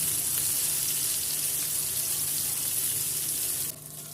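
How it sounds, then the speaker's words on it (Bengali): Eggplant slices frying in a pan make a continuous, even sizzle up close, broken near the end by a sudden drop in the hiss as the pieces are flipped, with no voices. "ঢাকনা খুলে এখন আমি বেগুনটা এক এক করে উল্টিয়ে দিলাম"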